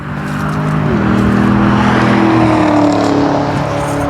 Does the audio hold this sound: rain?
no